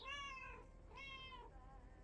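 Cat in the LAKE video game giving two clear, drawn-out meows close by, each under a second long with a short pause between them, over quiet room tone.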